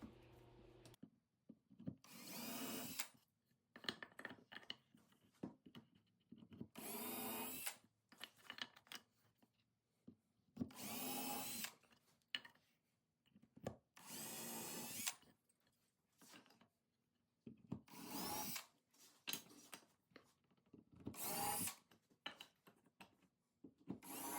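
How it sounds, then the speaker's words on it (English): A power drill bores pilot holes through a wooden cutting board set in a jig, in about seven short, loud bursts separated by quieter pauses with faint handling clatter. "I made this jig to try to streamline my pilot holes."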